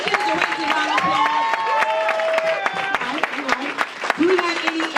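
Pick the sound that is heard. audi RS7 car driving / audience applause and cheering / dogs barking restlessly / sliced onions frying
audience applause and cheering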